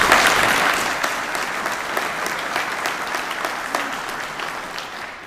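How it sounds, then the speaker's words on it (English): An audience at an engineering week kickoff event bursts into dense, steady applause, loud at first and tapering slightly over about five seconds, with no talk over it. "a round of applause, please."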